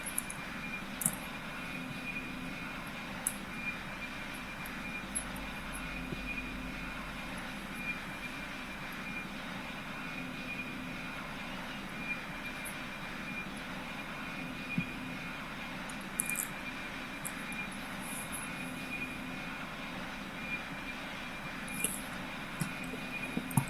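An airliner in the Roblox flight game PTFS is pushed back and taxis toward the runway, producing a steady, even engine drone throughout with a few faint clicks and no voices.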